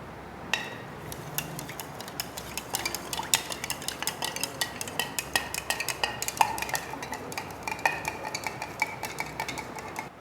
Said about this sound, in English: I am dissolving this common salt in 200 ml of water.